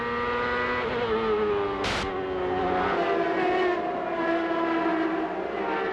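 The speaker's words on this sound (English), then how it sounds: "here is Tony Kanaan racing on what is his team's home track for the very first time" CART open-wheel race cars at Mid-Ohio in 1998 roar past in a loud, sustained engine drone with shifting pitch, and one car sweeps by close with a sharp burst around the two-second mark.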